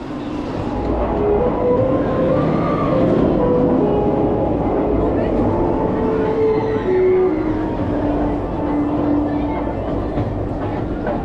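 A continuous rumbling roller coaster train with nylon wheels rolling along its track at Parc Astérix, steady and loud, with faint squeals and rattles throughout.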